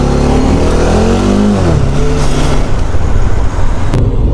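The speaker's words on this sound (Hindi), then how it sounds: "ये आर्मी का जो व्हीकल लाइन से जो व्हीकल जा रहा है" Army vehicles roll past in a convoy on a Rajasthan road between Jodhpur and Jaisalmer, their engines a loud, continuous rumble that rises and shifts in pitch as each one passes close by.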